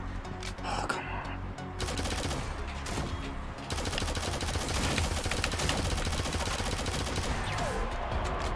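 Rapid automatic gunfire from the Shadowgun Legends PvP shooter game, loud and nearly continuous bursts with a brief gap around the second mark, mixed with game effects.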